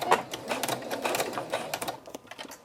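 Sewing machine stitching forward along a cloth diaper at a 3/8 inch seam allowance, a fast steady mechanical whir of needle strokes close up that tapers off toward the end.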